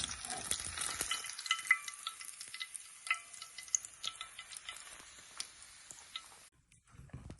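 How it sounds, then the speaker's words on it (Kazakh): Sushi frying in a pan until golden, a faint crackling sizzle with light stirring clicks, heard near and quiet with no speech. "Екі жағын бірдей қылып қызартып қуырып алып"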